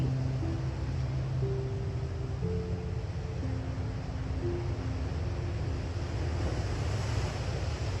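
Ocean waves wash continuously onto a beach with steady surf and wind rumble, a constant broadband wash with no break, while faint sustained low tones sit underneath.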